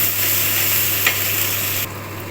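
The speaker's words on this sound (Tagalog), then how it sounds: "Ilagay natin ang kamatis. Then, haluin natin." Tomato with onion and garlic frying and being stirred in a pan, a steady close hiss of sizzling oil with a brief scrape of the utensil midway, the sizzle dropping slightly near the end.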